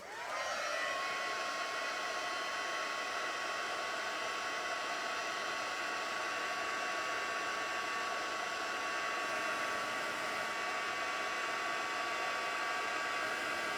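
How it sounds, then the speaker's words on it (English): A craft heat tool blows steadily to melt silver embossing powder on a Halloween paper treat holder. The whirring airflow starts abruptly and then holds a constant fan-like drone close by, with no speech. "hopefully the silver will show up when we emboss it"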